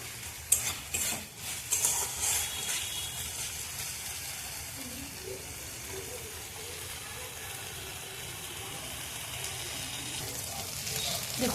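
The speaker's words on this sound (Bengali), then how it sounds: "এইভাবে কষতে হবে মশলাটা। আর পেঁয়াজগুলো একটু চেপে দিচ্ছি" Onions and spices being stir-fried in oil in a pan for Bengali katla kalia fish curry, a steady low sizzle with stirring scrapes and clinks that are busier early on and then settle into a continuous fry.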